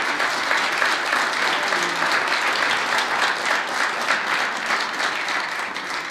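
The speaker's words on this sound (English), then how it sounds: "Let's have another round of applause for our choir." Steady, dense applause from a church audience for the choir, loud and continuous for several seconds with no break, the clapping filling the room evenly.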